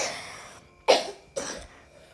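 Two short coughs in quick succession, close and fairly sharp, with quiet between them.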